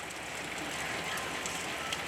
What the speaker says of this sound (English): I'd say it's raining, my friends.